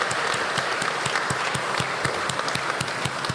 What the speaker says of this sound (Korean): 수고하신 우리 교사들 위해서 박수 한번 치겠습니다